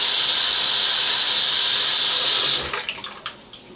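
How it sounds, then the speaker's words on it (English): Warm water running from a tap through an inverted shaving brush, a steady loud hissing stream that cuts off after a couple of seconds, followed by a few drips and splashes. "I will invert the brush and run warm water through it"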